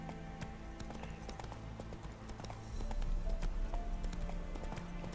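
Horse hooves clip-clopping in a steady gait while riding in The Witcher 3, with game ambience and music underneath; the hoofbeats grow louder and denser partway through.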